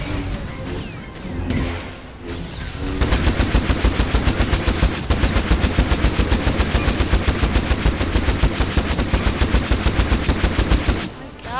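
Sustained, rapid machine-gun fire rattles loud and continuous for about eight seconds in Star Wars: The Old Republic, following a few quieter impacts and movement sounds at the start.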